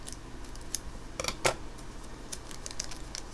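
Scissors snip into a trading card pack in a few quick, sharp, close cuts, with faint rustling in between.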